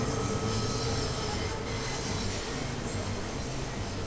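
A Bakerloo line train in Train Sim World rumbles steadily with a continuous roar and faint wheel squeal, close and unbroken, with no voices.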